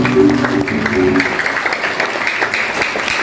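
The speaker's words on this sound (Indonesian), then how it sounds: "boleh berikan tepuk tangan dari sekalian" Applause from an audience of primary school children and families at a sixth-grade school event, a steady wash of clapping following a brief tonal voice at the start.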